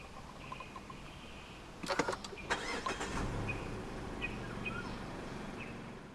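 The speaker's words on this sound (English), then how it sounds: "Put your foot on the brake and press the start button to the left of the steering wheel." A 2015 Mazda CX-5 2.0 SkyActiv-G with push-button start cranks briefly and fires up, followed by a low, steady idle hum inside the cabin, with a few faint chirps and beeps around it.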